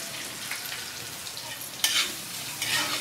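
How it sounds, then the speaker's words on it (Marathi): Finely chopped onion frying in a pan of tempered cumin, curry leaves and green chilli for upma, a steady soft sizzle with stirring scrapes and a couple of louder hissing bursts, no talk. "आता कांदा बारीक कापून घ्यायचा आणि खूप जास्त भाजायचा नाही."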